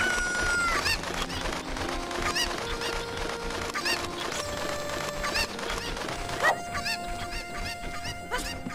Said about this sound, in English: You, chicken! Chicken!